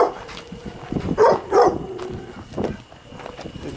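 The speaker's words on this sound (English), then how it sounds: "I think that dog might be fine." A dog on a rainforest mountain reserve trail in Costa Rica gives a few short barks and whimpering yips, mid-distance, over outdoor background noise.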